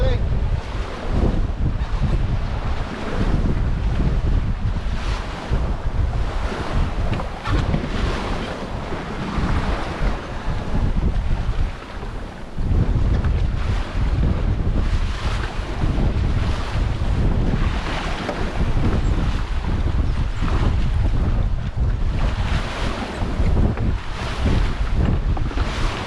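Strong wind buffets the microphone while choppy waves slap and rush around a 20-foot sailboat in 20-knot winds, a loud, continuous roar with surging gusts throughout.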